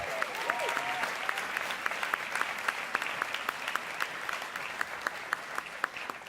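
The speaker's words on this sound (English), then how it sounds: "Give yourselves a big round of applause." Applause from a conference audience at an education event, many hands clapping in a steady continuous roar, with a few louder nearby claps standing out and a faint voice rising briefly near the start.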